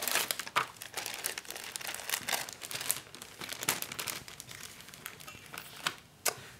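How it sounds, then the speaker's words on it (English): Plastic sticker pack packaging crinkles and crackles as stickers are pulled out for a Lindor chocolate holder craft, a busy run of close, sharp rustles with a few louder crackly bursts near the end. "Sorry for the crinkling."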